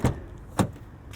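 A Ford Transit racing van unlocking, with two sharp mechanical clunks about half a second apart and a fainter click at the end, close by with no talk.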